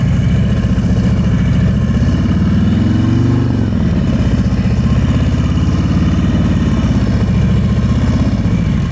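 A motorcycle's engine runs steadily and loud at slow speed, close by, as the bike nearly stops while climbing a hill, a continuous low drone that rises and falls a little in pitch.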